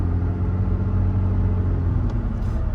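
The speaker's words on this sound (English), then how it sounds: "Actually, you can hear the intake. That is pretty damn sweet." McLaren 600LT intake and engine sound while cruising toward traffic, a low steady rumble heard from inside the car, fairly loud and continuous without speech.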